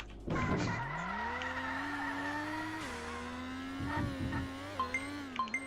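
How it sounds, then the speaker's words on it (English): A loud car engine in the video game Degen Dash 3 revs and climbs in pitch, holding a steady whine with gear shifts and brief tire squeals near the end. "I realise that this is really loud, but yes, Fred does have a car."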